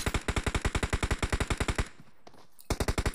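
Rapid full-auto M4 fire in the shooter game PUBG Mobile on the Erangel map comes as a loud, evenly paced burst. It breaks off for under a second and then resumes in another quick burst, with no speech.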